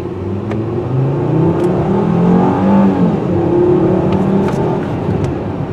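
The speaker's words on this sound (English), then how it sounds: "I'm going to do a mild acceleration test" A 2011 Volkswagen Beetle base model accelerates mildly along a residential street toward a cul-de-sac, its engine note rising and swelling steadily with a close, continuous whir and no talk over it.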